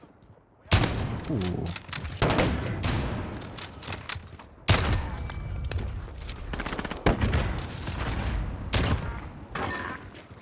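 Sniper rifle shots in Modern Warfare crack out loud and close, spaced several seconds apart, with sharp reports and echoing tails. Other gunfire rattles between them and someone briefly speaks.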